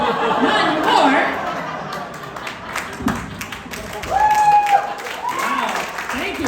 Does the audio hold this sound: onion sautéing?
no